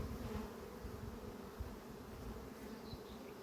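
Honey bees hum in a steady, dense drone at a hive during swarm-control work, close and continuous with no talking.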